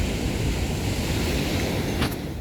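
Ocean waves wash onto Alappuzha beach with a continuous broad rushing roar, steady and fairly loud with wind noise, no voices.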